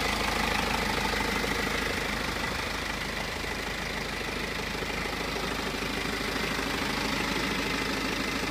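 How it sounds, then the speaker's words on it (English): A 2014 BMW 328d twin-turbo four-cylinder diesel idles steadily, with a continuous low clattering engine hum that holds an even level throughout and has no talk over it. "And it does have that familiar diesel sound to it."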